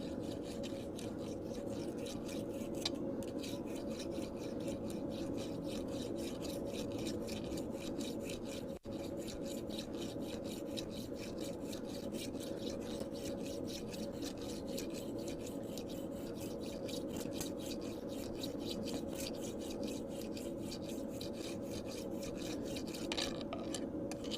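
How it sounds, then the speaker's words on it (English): A rasp files across hot steel just pulled from the fire in a steady, continuous scrape, with dense rhythmic strokes running at an even level throughout and a single brief break partway through. "Hot rasp time."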